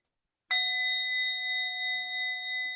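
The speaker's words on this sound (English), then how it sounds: "So I'll begin with a bell, and this is just a bell to kind of remind our senses to pay attention" A single mindfulness bell is struck once after a moment of silence, ringing with a clear, pure tone that sustains and slowly fades, close and alone in a quiet room.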